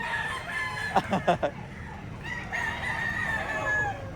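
Roosters offered for sale crowing and clucking at a market, a clear crow near the middle with short clucks around it and a second drawn-out crow toward the end, under faint background chatter.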